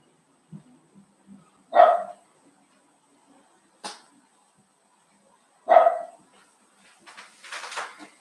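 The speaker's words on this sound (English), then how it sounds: "My dog is barking at my door" A dog barks at a door, two loud sharp barks several seconds apart, with quieter thumps and rustles in between and a fainter burst of noise near the end.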